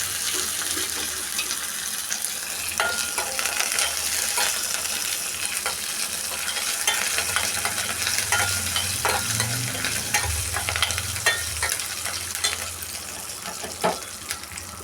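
Cumin seeds sizzle and crackle in hot oil in a pan for kari rice, a steady frying hiss with scattered pops and occasional stirring scrapes, close and continuous throughout.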